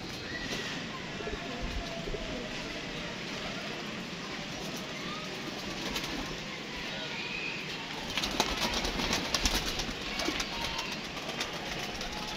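Pigeons cooing at night on a lit rooftop, soft repeated coos within a constant noisy background that grows busier toward the end, with voices talking nearby.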